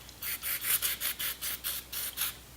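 Gunk is scrubbed out of a sealed, pop-riveted engine part from a Nissan Cube with a CR14DE engine. Close, steady back-and-forth rubbing strokes repeat in an even rhythm, with nothing else around them.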